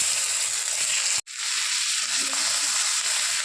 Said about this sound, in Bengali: এবার বাটাটাকে ভেজে নেব। দুটো শুকনো লঙ্কা, অল্প কালো জিরা দিয়ে ভেজে নেব।